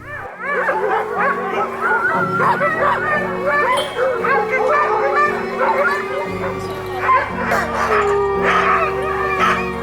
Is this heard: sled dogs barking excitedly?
yes